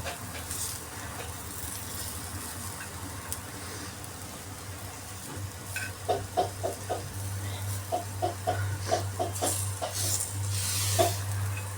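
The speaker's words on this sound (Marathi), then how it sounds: "परतून घ्यायचं छान आहे." Food is sautéed and stirred in a pan at home. A steady low hiss of frying runs under a series of sharp metallic scrapes and taps from a spoon, which grow busier toward the end.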